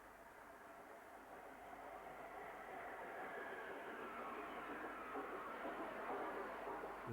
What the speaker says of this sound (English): Neville Hills A1 60118 Archibald Stirrup brings in a rake of empty coaches at the east end of Leeds City